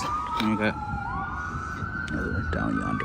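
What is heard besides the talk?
emergency vehicle siren passing on the street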